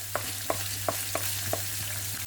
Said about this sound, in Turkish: Tavuklar suyunu çekti, kızarmaya başladı.